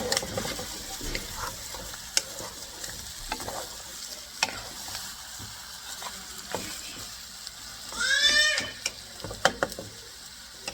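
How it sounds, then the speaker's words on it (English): Pork and neck bones being mixed in a pot for a Filipino caldereta, a low frying hiss under repeated clattering stirs and scrapes, with a brief whistling squeak partway through. "Now we're gonna add all my pork and neck bone. We're just gonna mix it up."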